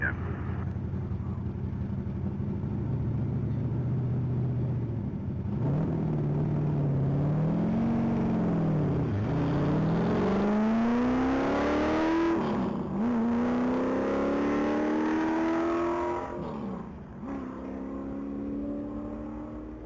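A 1996 Corvette C4 on a standing-mile top-speed run at the Texas Mile: the engine revs up through several gears, with rising pitch and brief drops at each shift, loud and close before fading slightly at the end.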